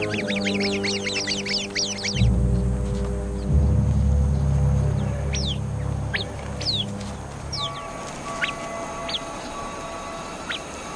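Sharp, repeated bird calls ring out in rapid bursts over a low, steady clucking drone, with scattered chirps that stay agitated throughout.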